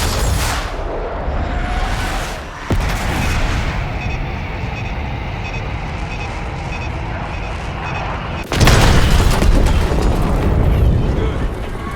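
Bombs go off in the Call of Duty: Black Ops 6 campaign as a loud, sustained rumbling roar, with a sharper blast surging in partway through and the heavy rumble continuing to the end.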